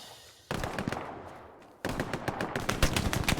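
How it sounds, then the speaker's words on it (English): Video game gunfight with bursts of automatic gunfire, a short volley, a pause filled by a fading tail, then a denser run of rapid cracking shots close and loud. "Excel winning that gunfight."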